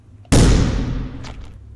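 A single loud, close gunshot blast in the video game The Final Station, with an abrupt attack and a long, booming decay that fades over about a second and a half.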